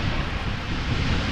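Airliner touching down in a gusty crosswind at Amsterdam Schiphol, a steady loud roar of engine and rushing wind filling the short stretch without a break.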